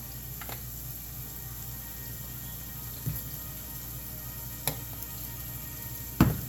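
Onions for Nigerian fried rice fry in a pan, giving a steady soft sizzle with a few faint pops and clicks of stirring, close and alone without talk.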